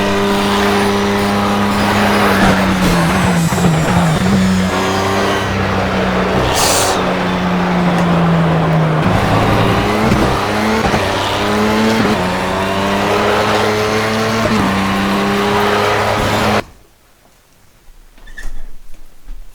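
A Project CARS race car engine roars loudly and continuously on a final lap, pitch rising and dropping through gear shifts with occasional tire squeal, then abruptly cutting out near the end.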